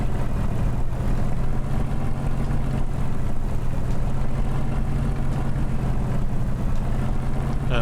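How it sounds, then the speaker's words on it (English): Simulated light aircraft engine run-up in Microsoft Flight Simulator at Cotswold Airport, Kemble: a steady, loud low drone with a throbbing propeller beat that holds constant throughout, with no talk. "we can do a quick, and I mean quick, run up, because we don't want to cook the engine"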